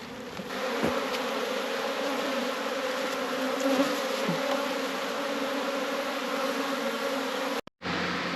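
Honeybees pour out of newly opened nucleus hives during queen rearing, making a dense, steady buzz close by that fills the whole stretch with no talk.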